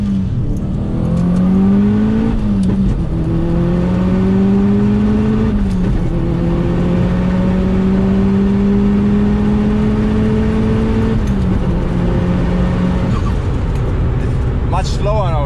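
Tuned Subaru-type car accelerating hard with flat-foot shifts from first through fourth gear, loud engine rising in pitch in repeated sweeps with brief drops at each shift, under ongoing talk.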